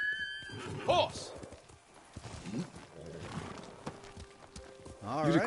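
A horse in the video game Ghost of Tsushima whinnies twice, once early and again at the end, with clip-clopping hooves and a person talking in between.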